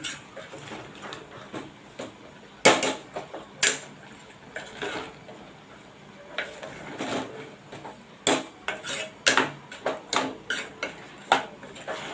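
Jaggery melting in a pan for puran poli filling is stirred with a spoon, giving irregular sharp scrapes and clicks against the metal over a low, steady background.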